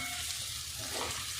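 Breadfruit stir-fry (kadachakka upperi) being stirred in a pan gives a soft, steady sizzle with a light stirring scrape in a brief, fairly quiet moment without speech.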